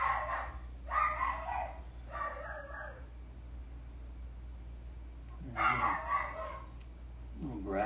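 A nearly two-year-old pet dog barks in short bursts, three quick yaps, a pause, then two more, fairly close and loud indoors with no talking.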